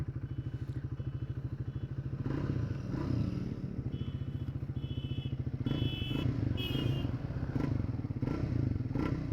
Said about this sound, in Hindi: ये रहा भाई एग्जॉस्ट नोट